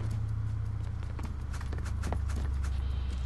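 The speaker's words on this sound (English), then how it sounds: "Right, I will hear footsteps." Footsteps in the video game Metal Gear Solid 3, a quiet run of regular clopping steps over a low steady rumble, fairly faint and continuous.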